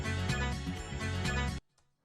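Unprocessed disco loop from a sample pack, brighter and fuller, with a steady danceable beat and chords over about one and a half seconds before stopping suddenly, leaving a faint trailing hum.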